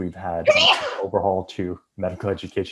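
A single sharp, loud sneeze bursts out close to the microphone, set among a person's ongoing speech.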